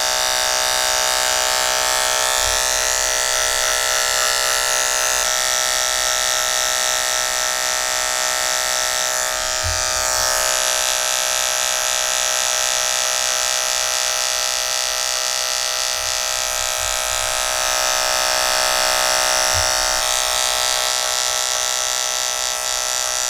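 Electric hair clippers fitted with a 1A guard hum steadily and close while blending a drop fade haircut, a continuous buzzing drone with slight shifts in pitch and a few soft handling bumps, no talking.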